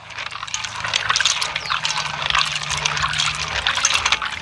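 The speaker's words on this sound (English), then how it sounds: "I highly recommend rinsing the almonds." Almonds being rinsed under running water, a steady close splashing and trickling stream that continues throughout without pause or talk.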